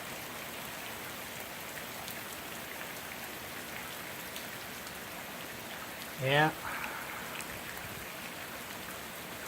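Heavy Thanksgiving rain falls onto the ground outdoors, a steady, dense hiss that runs through the whole clip, with a brief spoken word partway through.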